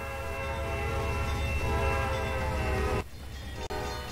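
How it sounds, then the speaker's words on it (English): A simulated Amtrak passenger train in the Trainz game rolls over a grade crossing, its horn blaring steadily and loudly over the rumble of the cars before cutting off abruptly near the end. "this Amtrak train going across the crossing"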